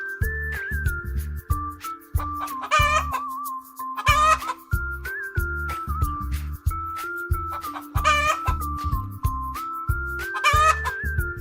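A farm hen clucks in short, sharp bursts that repeat at intervals, set over a bouncy, rhythmic music track with a thumping beat.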